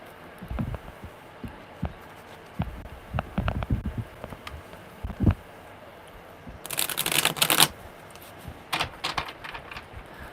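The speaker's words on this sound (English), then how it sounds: "one more good shuffle." Tarot cards are shuffled by hand in irregular bursts of riffling and soft taps, close and fairly quiet, with one louder, brighter riffle partway through.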